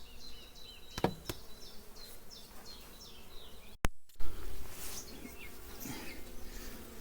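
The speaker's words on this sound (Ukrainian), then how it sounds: "Гарно струшуємо, бо ця молода бджіла нам саме більш потрібна." Honey bees buzz around an open hive as a frame is shaken to knock young bees off, a dense close droning hum with a sharp knock partway through and no talk.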